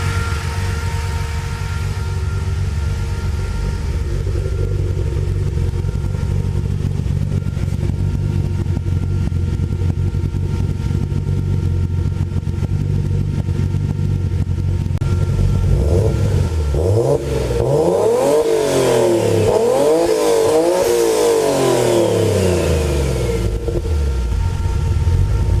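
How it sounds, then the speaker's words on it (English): A Nissan 300ZX Z32 fitted with an RB26 engine and Kelford 272 cams idles with a lumpy, steady rumble, then revs up and down several times in the second half, close and loud. "it also has Kelford 272 cams, and so it gives it a nice idle."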